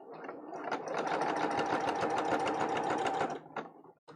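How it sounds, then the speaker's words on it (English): A sewing machine runs steadily while stitching pieces of a Maghda cosplay costume, a fast buzzing whir up close that holds for about three seconds, then stutters and stops with a few short bursts. "Let's sew it."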